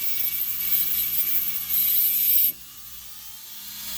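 A ratchet works a bolt out of a Mark IV VW Jetta shifter assembly, with a rapid, close metallic clicking that runs for a couple of seconds and then stops abruptly, leaving a quiet room tone.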